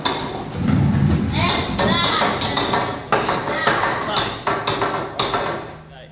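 Repeated hammer blows nailing lumber while building a wall, sharp thuds and taps in an irregular rhythm, close by, with people talking in between.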